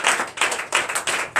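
Hands clap in quick rhythmic bursts, several close claps in a row, as a congregation acclaims during a Sunday church service, brief and lively with no speech.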